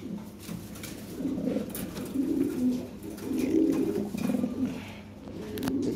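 Lahri pigeons coo in soft, throaty, repeated bursts, several birds calling close by in an enclosure with brief gaps between the rolling coos.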